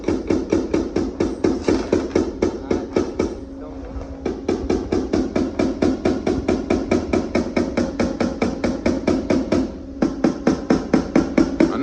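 Steady, rapid hammer blows on metal against a dolly, ringing taps in an even rhythm with a couple of brief pauses, shaping body panels of a 1965 Chevrolet C30 truck.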